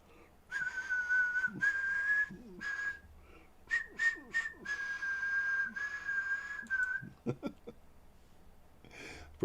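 A person whistles a song melody at a steady, fairly loud level, sustained phrases broken by short pauses, with faint breaths and small background noises between notes.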